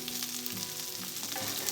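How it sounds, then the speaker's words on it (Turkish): Chicken livers fry in a pan with a steady, dense sizzle throughout, close and even, no voices. "Evet, ciğerlerim de çok güzel bir şekilde kavruldu gördüğünüz gibi."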